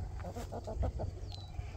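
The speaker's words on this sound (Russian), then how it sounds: "Все, побежали, побежали, побежали наши курочки." Chickens cluck in short, quiet bursts as they run out into a garden, a few soft calls close together over low background noise.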